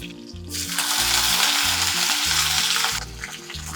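Mustard seeds sputter and crackle in hot oil for a tempering in a cauliflower-and-peas recipe, a dense, steady sizzle that swells for about two and a half seconds over a background of music.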